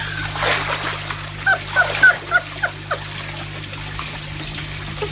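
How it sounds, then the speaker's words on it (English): A person climbs into a garden koi pond, making several close, soft splashes and trickles of disturbed water against a low, steady hum. "Right, now I'm in the water."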